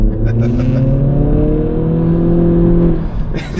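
An Acura Integra driven in sport mode, its engine a loud, steady drone that rises in pitch while under way, with a voice briefly over it.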